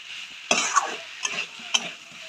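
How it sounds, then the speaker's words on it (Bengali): Cauliflower and potatoes for an egg curry are stir-fried in a pan, with a steady soft sizzle broken by three or four sharp scraping stirs of a spatula, close and alone with no talk. "এবার ওই ফুলকপিটা দিয়ে ভালো করে কষাবো"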